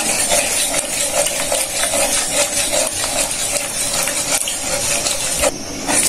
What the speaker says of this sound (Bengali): এখন আস্তে আস্তে করে কর্নফ্লাওয়ারগুলো দিয়ে দেব আর ভালোভাবে নাড়িয়ে নেব